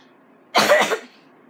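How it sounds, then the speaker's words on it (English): A single short cough, close and clear, against near silence. "Which makes me cough."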